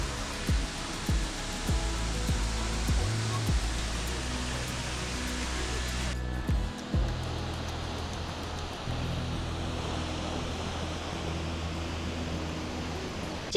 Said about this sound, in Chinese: 这个是3段中水流最大的瀑布，也是我觉得3个里面最漂亮的其中一个